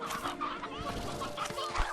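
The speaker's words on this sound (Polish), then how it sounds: "I zobaczmy, jak tam sytuacja z kurczakami." Chickens cluck continuously in the Slime Rancher 2 video game, several overlapping calls at moderate volume forming a busy, steady backdrop.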